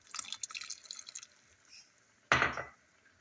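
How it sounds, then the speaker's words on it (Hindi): Water poured into a pan of kachnar buds, a short close splash and trickle after quieter clinking kitchen noises. "ये अब पानी डाल रही हूँ थोड़ा सा।"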